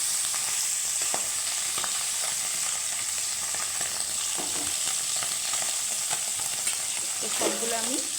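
Small tangra fish, rubbed with turmeric and salt, sizzle steadily in hot oil in a pan, with occasional light stirring clicks and scrapes throughout.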